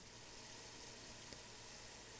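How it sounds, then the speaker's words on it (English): Warm tap water running over a pair of glasses being rinsed, a faint, steady hiss of flowing water with no break. "Then I rinse under warm water."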